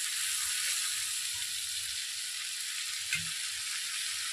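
Spice paste fries in oil for a bele fish jhal, giving a steady, even sizzle with a faint low rumble beneath and one small knock partway through.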